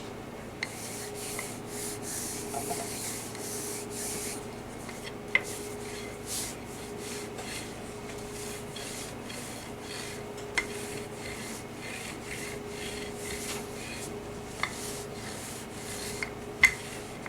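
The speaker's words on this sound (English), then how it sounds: "So here's my dough. I'm going to roll it out and cut it into strips." Bread stick dough is rolled out on a kitchen counter, giving a steady soft rubbing and rasping with a few faint knocks, close up and with no one talking.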